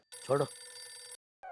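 Telephone ringing in a home, a steady electronic ring tone lasting about a second, then a short pause before it starts again, with a brief spoken word over the start.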